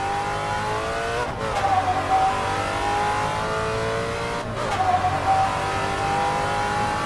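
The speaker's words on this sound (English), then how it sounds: "Up through the gears" A vintage Trans Am race car in Assetto Corsa accelerates up through the gears, its loud engine note climbing steadily and dropping sharply at each of two upshifts, continuous and close with no talk.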